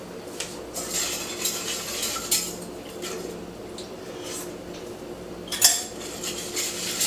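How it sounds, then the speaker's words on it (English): A metal whisk or utensil clinks and scrapes rhythmically against a bowl while mixing a coconut limber mixture for a Puerto Rican frozen treat, with close, moderately loud bright taps throughout. "we are going to keep on whisking"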